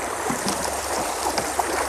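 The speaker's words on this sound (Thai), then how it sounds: "น้ำไหลบืดบืดบืดเลย" Steady rushing water flows continuously with a broadband hiss, close and fairly loud, no voices.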